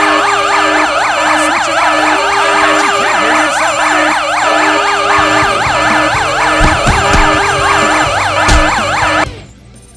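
A video-game emergency vehicle siren wails loudly and continuously in a rapid repeating sweep, with engine rumble underneath, then cuts off abruptly near the end.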